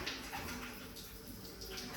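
Tap water running steadily in an upstairs bathroom of an 1890 Victorian house, flushing mineral and iron buildup from clogged old pipes; a continuous, even rush of water, moderately faint and close, with no talking.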